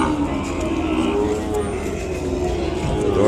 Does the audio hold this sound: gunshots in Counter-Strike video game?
no